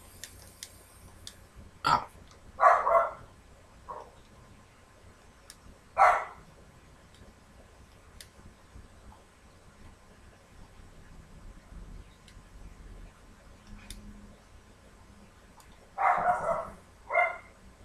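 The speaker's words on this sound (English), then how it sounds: "Just ignore that dog." A dog in the Assassin's Creed 2 game world barks in a few short bursts, separated by gaps of quiet ambience, moderately near with no speech over it.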